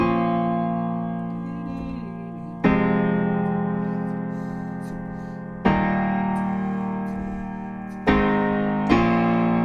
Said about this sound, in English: And the bridge sounds like this.